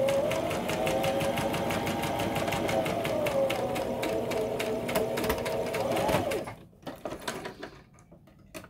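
Sewing machine stitching around a tote pocket, a fast steady mechanical rattle with a whining motor, close and continuous for about six seconds before slowing to a few separate clacks.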